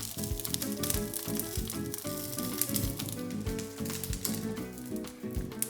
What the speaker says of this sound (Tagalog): At tinutuloy ko lang yung pagprito dito hanggang sa lumambot na yung talong.